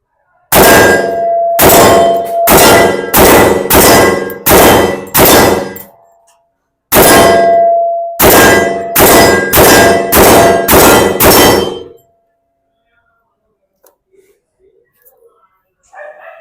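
Stribog SP45 .45 caliber carbine fires about fifteen loud, sharp shots in two quick strings with a pause between them, each crack ringing briefly; close and outdoors, with faint clinks after.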